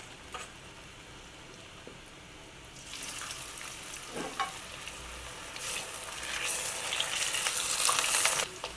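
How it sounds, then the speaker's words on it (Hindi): French fries dropped into hot oil in a kadai, a low steady bubbling that swells into a louder, dense crackling sizzle as more potatoes go in, with no talking. "फ्राइज़ को फ्राई करने के लिए मैंने ऑयल एक कढ़ाई में डालकर रख दिया है और ये अच्छे से गर्म हो चुका है।"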